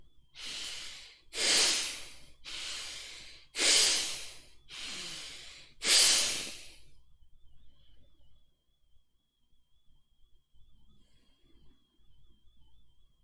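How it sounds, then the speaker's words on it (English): Six loud, forceful breaths pushed out in a steady rhythm over about seven seconds during a breathing exercise, followed by quiet settling with a faint steady tone. "It's a very forceful breathing."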